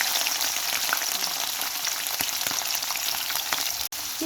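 Dried gonia fish sizzles in hot oil with garlic, giving a steady, close, loud frying hiss with crackling spatters and no voices, cut by one brief dropout near the end.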